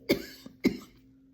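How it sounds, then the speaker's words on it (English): Two sharp, close coughs about half a second apart, then quiet. "I'm sorry, I have to cough"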